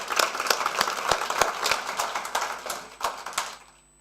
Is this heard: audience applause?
yes